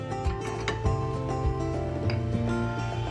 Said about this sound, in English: Now you can go ahead and just remove the old brake pads.